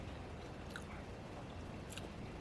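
Someone chewing crunchy homemade food during a taste test, quiet close crunching and biting with a couple of sharper bites, no talking.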